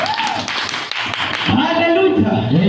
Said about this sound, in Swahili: Pigia Bwana makofi mazuri.